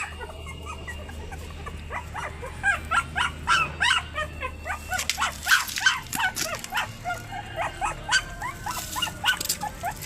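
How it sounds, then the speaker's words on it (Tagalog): A litter of one-month-old puppies yaps and whimpers nearby in short, high, overlapping bursts that grow busier partway through, over a low steady hum. "Naglalabasan na yung mga tuta."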